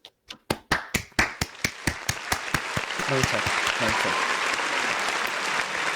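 A round of applause at a New Year's gathering starts as a few separate claps that quickly thicken into steady, dense clapping, with a brief spoken thanks near the start.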